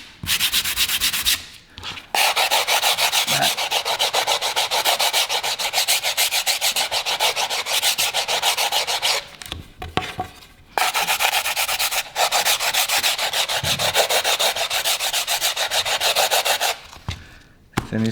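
A repaired blade is finish-sanded by hand with fast, even back-and-forth rasping strokes. The dense scratching runs loud and continuous, broken by a few short pauses.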